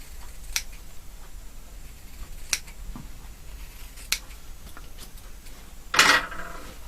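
Sharp scissor snips cutting the corner of a sewn lapel collar, a few isolated crisp cuts spaced a couple of seconds apart, with a longer, fuller snip near the end, close and fairly quiet.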